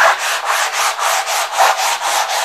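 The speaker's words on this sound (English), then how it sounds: "So I'm just going to give it a quick rub with sandpaper." Sandpaper rubbed across a primed canvas in steady back-and-forth strokes, a close, loud, rhythmic scratchy hiss with no voices.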